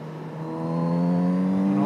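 Kawasaki Z900RS motorcycle engine on its stock exhaust revs up smoothly and steadily, a loud, close, rising tone that climbs for about two seconds with no break.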